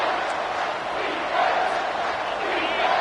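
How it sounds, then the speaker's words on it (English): A packed football stadium crowd roars on third down, a dense, loud, unbroken wall of cheering and shouting that swells slightly, heard from within the stands. "Third down, and this crowd is tearing the lid off this place."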